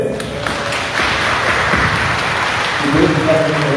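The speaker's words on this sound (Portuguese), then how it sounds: "vamos dar as palmas para eles?" A church congregation applauding during Sunday Mass, broad continuous clapping that fills the space evenly, sounding like heavy rain, with no voices standing out.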